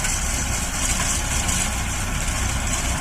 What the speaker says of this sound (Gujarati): ટ્રેક્ટર દ્વારા, ખૂબ જ સરળતા રહે આમાં, એકદમ ઇઝી મશીન દ્વારા કાપણી થઈ જાય છે